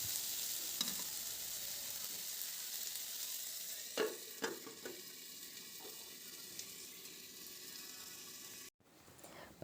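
A spoon stirs fish and pancha-mukhi taro cooking with squash in a pan, scraping in a few distinct strokes over a soft, steady sizzle close by, then the sound cuts off abruptly near the end.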